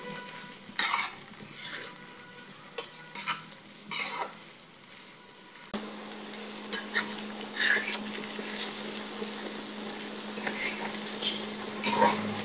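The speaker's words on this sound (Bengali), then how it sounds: "সবগুলো উপকরণকে নেড়ে চেড়ে ব্রাউন কালার করে ভেজে নেব।" Garlic, ginger and green chilies frying with onion in a pan, a soft steady sizzle with intermittent stirring scrapes, growing fuller and louder halfway through.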